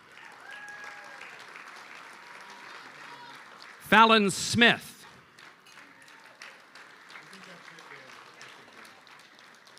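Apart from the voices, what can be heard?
audience applause at hockey hall of fame induction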